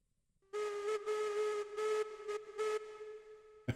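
A steam locomotive whistle in the Railroads Online game, a loud, clear tone blown in several uneven bursts over about three seconds, standing alone with no talk.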